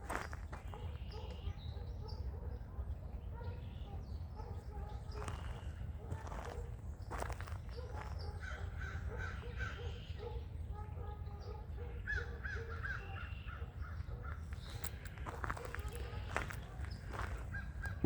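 Crows caw repeatedly at a distance over a low outdoor rumble, their harsh calls scattered irregularly through the scene.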